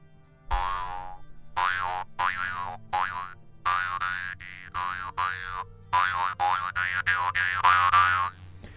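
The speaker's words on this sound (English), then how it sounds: "The thread on my jaw harp has been cut." A jaw harp twangs in a run of quick, rhythmic plucks, each note wobbling and bouncing in pitch over a low steady drone, close and alone.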